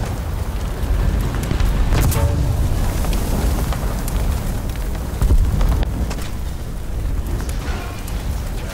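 Bomber fire support blasts in the War Thunder combat game produce a loud, continuous deep rumble with heavy booming swells and scattered crackling debris throughout.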